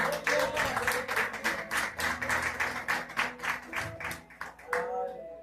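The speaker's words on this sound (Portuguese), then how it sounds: "Tu pode aplaudir a Ele." A church congregation applauds during a sermon, clapping in a rhythmic, pulsing pattern with sustained musical tones and voices underneath.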